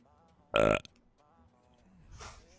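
A single loud, rough burp lasting about a quarter second, followed by faint murmuring voices and a soft rustling hiss.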